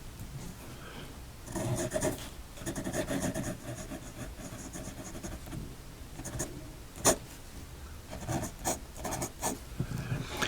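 A flexible, very wet nib on a vintage Waterman 55 fountain pen scratches softly across paper in close, faint strokes, with short pauses and a few sharper taps between lines.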